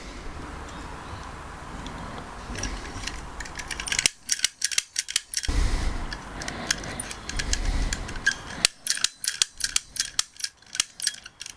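A lock cylinder loaded with drop-in pins is picked at close range, giving fast runs of small metallic ticks and clicks that come in bursts with short pauses between them. No one speaks.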